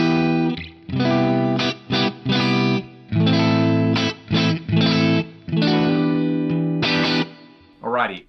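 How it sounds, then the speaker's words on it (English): A clean Stratocaster electric guitar plays sustained single notes and chords with pauses between phrases, close and clear, with light room reverb. "This is the clean sound on my Strat."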